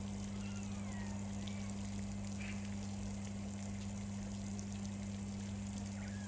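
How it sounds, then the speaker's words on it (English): Steady low hum from the waterfall pump in an otter enclosure pond, faint and constant throughout, with a soft wash of trickling water beneath it and no speech. "there's a little bit of a hum in the background"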